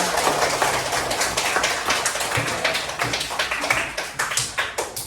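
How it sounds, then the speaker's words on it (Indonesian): A classroom group of students claps hands after a relaxation exercise, fairly loud and close, with distinct individual claps and a loosely rhythmic, uneven pattern that grows more separated toward the end. "Boleh tepuk tangan dulu."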